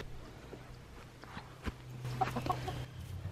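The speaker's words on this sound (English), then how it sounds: "I'm going to go find the chickens" Soft, scattered clucking from chickens nearby, with a few light rustles and a thump, growing slightly busier toward the end.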